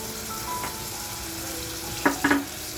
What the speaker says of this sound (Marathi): मस्त असं तेलामध्ये फ्राय करून घ्यायचं आहे